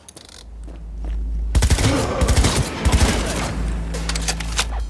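Rapid gunfire bursts in the Cyberpunk 2077 video game, a dense loud fusillade after a quieter opening second, with sharp repeated shots over a rumbling low backdrop.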